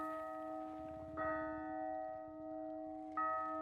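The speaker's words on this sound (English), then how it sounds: "I accidentally rang the bell." A tower bell in the game Hunt: Showdown is struck twice, each hit ringing out in a long, sustained metallic tone that hangs and slowly fades between strikes.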